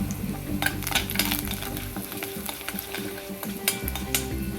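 Spices sizzle and crackle in hot oil in a pan, a tempering with asafoetida on low heat, with a steady frying hiss and occasional sharper pops and scrapes.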